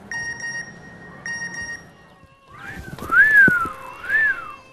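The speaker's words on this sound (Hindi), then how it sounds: "बड़ी सीटियां पे जा रहा है," A person whistles a couple of loud, close, sliding melodic phrases that rise and fall, following an electronic phone-like beeping tone, in an indoor drama scene.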